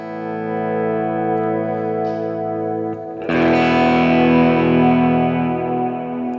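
Electric guitar played through a reverb pedal in a worship-band rig: a sustained chord rings, then a fresh strum blooms into a wide, washy reverb with a long, slowly decaying tail, with no talk.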